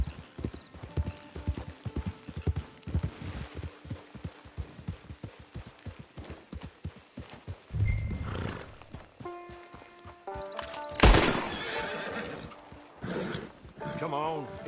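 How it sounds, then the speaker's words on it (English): Horse hooves clip-clop steadily in a PS4 video game, with a whinny and several more neighs later on, set under game dialogue and talk. "Get your horse."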